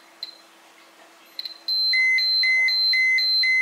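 A Rodnik 3 radiation meter held near uranium glass gives a few scattered clicks, then breaks into a loud, rapid, regular electronic alarm beeping close by.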